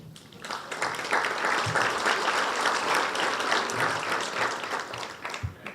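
Steady applause from an audience at an evening legal lecture event, welcoming a speaker to the stage; dense, even clapping continues throughout without speech.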